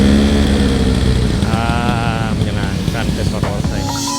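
A Vespa Corsa scooter engine putters loudly and steadily up close, with a voice speaking briefly over the running motor.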